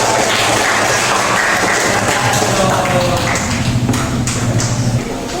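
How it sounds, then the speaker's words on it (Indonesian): An audience applauding a presenting group in a classroom, a dense, continuous wash of many hands clapping at full volume, fading slightly at the end. "tepuk tangan untuk kelompok"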